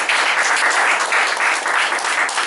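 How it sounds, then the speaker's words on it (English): A Toastmasters club audience claps steadily for a speaker, a dense, even roar of many hands from the room that runs unbroken throughout. "Give her a big applause."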